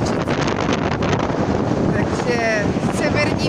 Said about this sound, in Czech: Takže severní vítr, vítr proměny, vítr, který je nestálý, který je divoký.